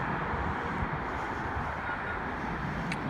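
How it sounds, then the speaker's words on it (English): A train passes on a city street in Midtown Phoenix, a steady broadband rumble and rush that holds at a constant moderate level with no voices. "And there goes the train"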